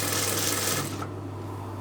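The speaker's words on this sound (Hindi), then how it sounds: "वैसे ही राउंड नैरो राउंड सिलाई कर लेते हैं।" A sewing machine stitches a narrow round neckline on a mehndi suit, with a quick, close rattling run that stops abruptly about halfway through, leaving a low steady hum.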